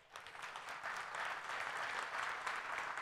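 A church congregation claps in a fairly quiet, steady round of applause that holds evenly for about three seconds, with no talk over it.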